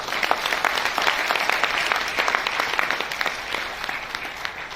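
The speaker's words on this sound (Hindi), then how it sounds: "एक बार अपने लिए जोरदार ताली बजाएं" Steady applause from a crowd, dense clapping that holds at an even level throughout without pause, at a Modicare training seminar.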